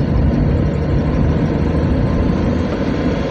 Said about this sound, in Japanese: エンジンカバー外して運転したらこんなうるさいんですね、これ。